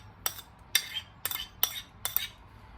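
A utensil stirring ginger, garlic and green onions in a cooking pot gives five sharp metallic clinks at a steady, unhurried pace, close and fairly quiet with near silence between strokes.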